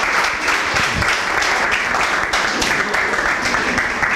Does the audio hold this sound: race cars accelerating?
no